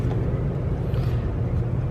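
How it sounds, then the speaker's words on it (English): A Chevrolet Cruze idling with the air conditioning on gives a steady, low growling rumble, constant and unbroken for the whole stretch, with no talk over it. "there's a growling noise, and that's only at idle"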